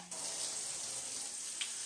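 A strong, steady hiss of water from a shower head on its jet stream setting, a continuous jet running close by without pause.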